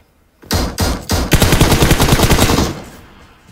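Bursts of automatic gunfire in PUBG Mobile, two or three short separate shots followed by a sustained rapid volley, loud and close, with no talk over it.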